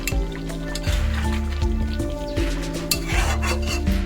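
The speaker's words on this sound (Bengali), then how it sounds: "আমি এবার ওই কাজু বাদাম আর পোস্ত বাটা দিয়ে ভালো করে মিশিয়ে নিচ্ছি" A cashew and poppy seed paste is stirred into chicken rezala gravy in a metal pot, with loud repeated clanks and scrapes of a spoon against the pan over a soft bubbling, no talk.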